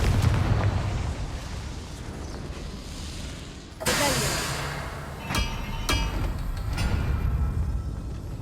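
A Confringo fire spell in Hogwarts Legacy bursts with a loud booming explosion midway, followed by a few sharp crackling pops and rumbling debris over a low ambient background.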